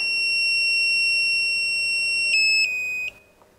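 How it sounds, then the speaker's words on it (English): A voltage tester gives a steady high-pitched electronic beep near a live conductor, then shifts to a few rapid pulses before cutting off abruptly; close and fairly loud, no talking. "When approaching the live conductor, the tester starts beeping"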